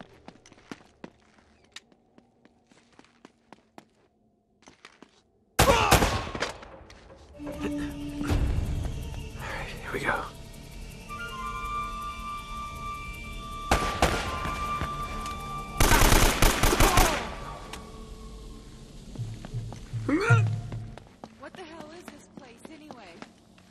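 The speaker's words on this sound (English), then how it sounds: "They're shooting at you too," Gunfire from the video game Uncharted: Drake's Fortune, with loud bursts of automatic shots and single cracks after a quiet opening, mixed with footsteps and clatter while people talk.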